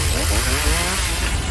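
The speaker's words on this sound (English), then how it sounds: "Echo blowers, chainsaws, and string trimmers deliver industry-leading power to handle the tallest tasks in the shortest time." An Echo chainsaw runs at a steady high-pitched whine with a slight rising and falling tone, loud and continuous with no voices.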